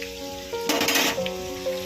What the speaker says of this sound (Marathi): आता हे बघा लसूण ब्राऊन झालाय, चांगले सगळे फ्राय झालेले आहे।